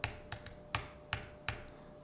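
Thin, low-travel chiclet keyboard keys are tapped about six times in an uneven rhythm, each a sharp, close, crisp click against a quiet background.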